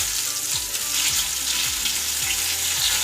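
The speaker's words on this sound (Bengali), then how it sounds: "পরোটা, বেগুন ভাজা, একটু আলু চচ্চড়ি করছি" Paratha and eggplant fry in hot oil, a close, steady sizzling hiss with faint stirring or scraping taps, and no talk.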